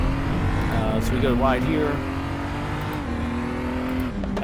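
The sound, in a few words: BMW M235i race car engine accelerating, RaceRoom racing video game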